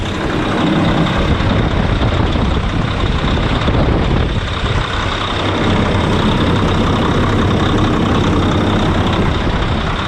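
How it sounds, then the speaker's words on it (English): A heavy Paccar MX 455hp diesel engine in a 2012 Kenworth T800 truck idles loudly and steadily up close, a dense rumbling drone with a slight dip in the middle and no voices. "Let's fire up the truck and take it for a bit of a drive here."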